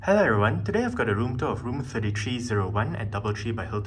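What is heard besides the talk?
No everyday noises stand out.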